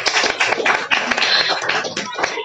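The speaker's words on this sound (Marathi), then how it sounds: "सगळ्यांनी टाळ्या वाजवा त्यांच्यासाठी." An audience applauds for the mothers at a meeting, a dense, steady patter of many hands clapping close by for a couple of seconds with no talk over it.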